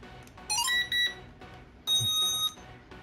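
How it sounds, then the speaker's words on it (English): Electronic power-on beeps and tonal chirps from a ZLL SG908 drone in short bursts, a rising tone then two longer high beeps, close and clear over a quiet background. "So yun, narinig niyo po yung beep."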